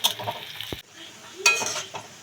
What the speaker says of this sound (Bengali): এই দেখো পেঁয়াজটা পুরো লাল লাল হয়ে ভাজা হয়ে আসছে